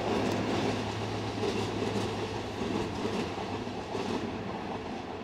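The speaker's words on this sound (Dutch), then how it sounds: "Een 420 in het nieuwe verkeersrood, gekoppeld aan de oude Düsseldorfse kleurvariant." A class 420 S-Bahn electric multiple unit, one set in new traffic red coupled to the old Düsseldorf livery, rolls past loud and close with steady broadband rumble, a low motor hum and light rail clatter throughout.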